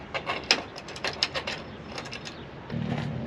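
A hand ratchet clicks in short, quick bursts while tightening a bolt on an Aluminess rear door rack on a Mercedes-Benz Sprinter camper van, close and crisp, followed by a low steady hum.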